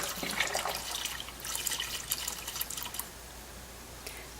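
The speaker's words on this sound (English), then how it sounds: "Let the fryer drain." Cooking oil drains from a commercial fryer with a steady trickling, dripping pour that fades out near the end, moderately close and quiet.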